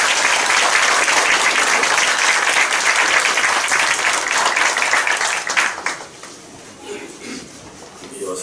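Loud, dense applause from a large church congregation at a university board chairman's inauguration ceremony fills most of the clip, then fades out into quieter room noise and a few scattered claps.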